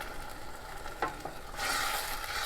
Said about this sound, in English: Now I'm going to go ahead and add the tomatoes.